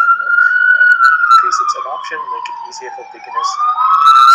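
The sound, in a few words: ambulance siren passing on the street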